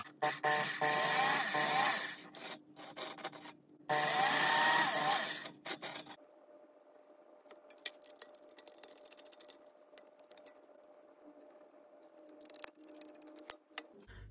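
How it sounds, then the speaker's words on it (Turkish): A drill bores screw holes into the sides of a small drink-can stove casing in two loud, harsh bursts, each lasting about two seconds, followed by quiet with faint scattered clicks. "Bunu kapatmadan önce de yan taraflara vida deliklerimizi açıyorum."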